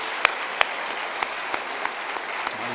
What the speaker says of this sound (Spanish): Póngase de pie, pero no deje de aplaudir.